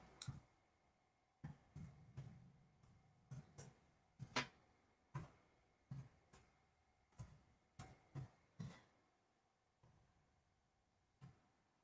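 Sparse, light keyboard clicks from someone typing on a computer, about a dozen isolated taps and short bursts with pauses between, faint and close in an otherwise quiet room.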